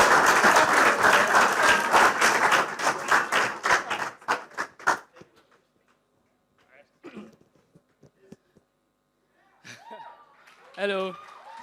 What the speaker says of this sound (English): So please, put your hands together for Adewale Abati.